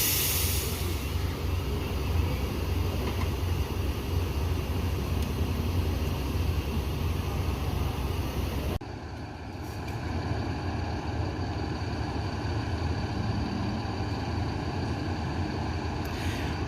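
An old bus engine runs at a steady idle, a continuous low droning hum with no talk, briefly dipping midway before resuming its even rumble.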